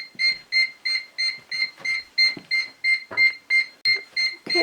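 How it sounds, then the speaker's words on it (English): Cranberry Frost Watch frost alarm going off in a bedroom, a rapid run of about a dozen evenly spaced electronic beeps, clear and close, with faint background noise. "that's what it sounds like when the frost alarm is going off in our bedroom"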